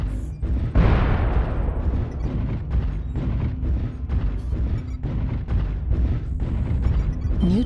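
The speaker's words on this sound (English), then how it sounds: "Warning incoming missile." Incoming missiles explode in the MechWarrior Online mech combat game as a dense run of heavy booms and rumbling blasts, one big impact followed by a continuous barrage of loud, closely spaced detonations.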